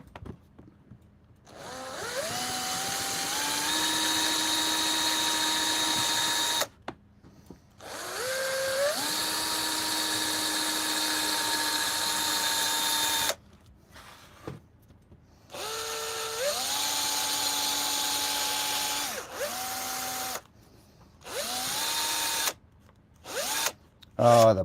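A battery power drill runs in long whirring bursts while working on a van, spinning up and holding speed, then stopping between runs, close and fairly loud with brief pauses of quiet.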